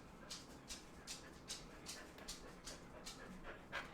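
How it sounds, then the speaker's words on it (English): Dogs panting in soft, rhythmic bursts, around ten breaths at a steady pace, faint and fairly close, with no talk over them. "Dogs, what are you doing there?"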